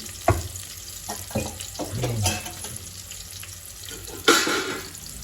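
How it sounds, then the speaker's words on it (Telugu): Ginger garlic paste sizzles and fries in ghee in a pan, with scraping stir strokes and a few louder clatters over a steady frying hiss. "అల్లం వెల్లుల్లి పేస్ట్ 1 స్పూన్ వేసుకున్నానండి, చిన్న స్పూను. ఏదైతే నెయ్యి వేసానో అదే స్పూన్తో వేసుకున్నాను."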